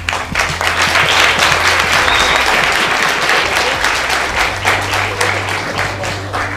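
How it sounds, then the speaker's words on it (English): Loud, steady applause from an audience at a youth competition final, sustained for several seconds and filling the space, with no talk over it. "let's give a big round of applause to all of you"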